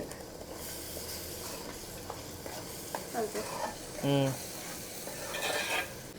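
Tomato pulp frying in a fish curry pan for a village-style mango fish curry, with a steady sizzle under repeated stirring scrapes and brief voices nearby.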